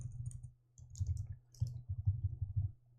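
Java code typed on a computer keyboard in short bursts of soft, close clicking keystrokes with brief pauses between them, quiet and without talk.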